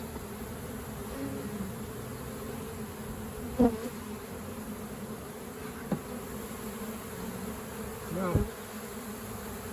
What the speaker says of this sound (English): Come out, bees.